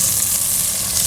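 Butter melting in a hot pan gives off a dense, continuous sizzle, loud and close, with no other sound.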